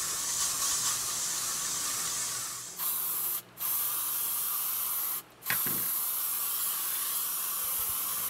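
A PlastiKote spray paint can sprays primer, hissing steadily, close up, cutting out twice briefly before each burst resumes.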